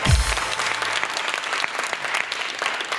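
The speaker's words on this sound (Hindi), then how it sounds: "तालियां बजा के साथ" A talk-show studio audience applauds during an interview with an actor. Brisk, continuous clapping from a crowd follows a brief low thump at the start and holds steady for about three seconds.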